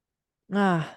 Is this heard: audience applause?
no